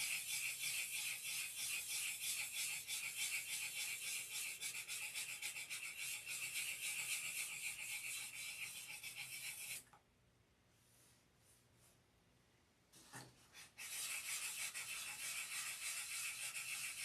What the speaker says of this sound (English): When it quits cutting, we're going to quit sanding.